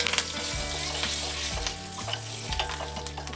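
Curry leaves crackle and sizzle in hot oil for a tempering with cumin and crushed garlic, a steady close frying hiss with stirring knocks and a low hum underneath, no talking.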